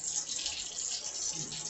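Water runs steadily from a kitchen tap into the sink while something is rinsed, a continuous close hiss and splash with no talking.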